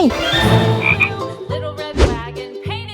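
A large frog croaking loudly and close by, several rough, throaty croaks in quick uneven succession with brief pauses between them.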